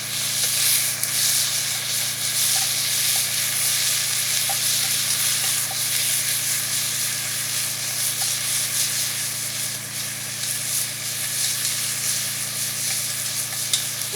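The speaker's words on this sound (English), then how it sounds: "Get this good and browned up." Meat browning in a hot pot for stew, giving a loud, continuous close sizzle with steady frying hiss and occasional light stirring scrapes, with no voices.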